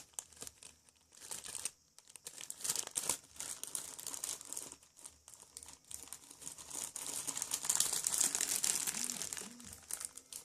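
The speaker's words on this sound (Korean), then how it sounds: "이제는 큰 지퍼백을 준비해주세요" A large plastic zip-lock bag being handled during a DIY craft, giving steady close crinkling and rustling with short pauses and a few louder bursts, and no voice.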